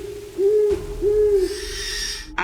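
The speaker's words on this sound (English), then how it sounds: "I heard those owls started squawking." Owls hooting at three in the morning in misty light rain in Oklahoma woods, two clear drawn-out hoots in succession, close and prominent against a quiet background, with a brief noise burst at the end.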